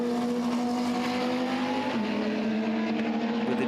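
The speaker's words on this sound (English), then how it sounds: "And then you've got the rumbling and roaring AMG Mercedes" AMG Mercedes touring race car with a big V8 engine roaring at the Hungaroring endurance race, a loud sustained deep drone with a steady pitch that dips slightly midway and holds on.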